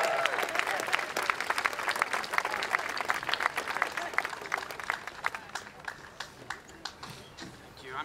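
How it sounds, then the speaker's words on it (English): Loud, dense crowd applause at an outdoor rally with steady clapping throughout, easing slightly toward the end. "Have a round of applause for them."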